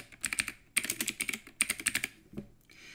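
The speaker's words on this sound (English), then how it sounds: "we will type hello world" Typing on a computer keyboard, quick clattering bursts of keystrokes with short pauses between them, close and clear with no talking.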